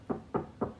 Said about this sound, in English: Hark how they knock.